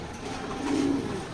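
Racing pigeons of a Super Milli line coo softly in a loft, a low murmuring call that swells briefly in the middle of a short stretch, close by with no talk.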